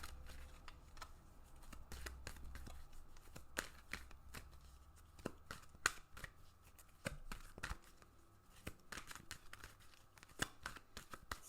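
Oracle cards are shuffled for a tarot reading, giving soft, faint riffling and irregular papery slaps and taps close by in a quiet room.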